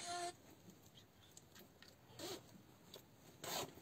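A silver zipper running down the back of a women's shirt is pulled open in a few short, quiet, rasping bursts. The last burst is the loudest, and there is no talking.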